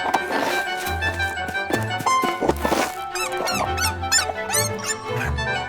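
Cartoon squeaks, clanks and thunks with a toy car overturning in an animated factory scene with a mouse and chicken, a busy run of bright chirpy squeals over low thumps, loud and continuous with background music.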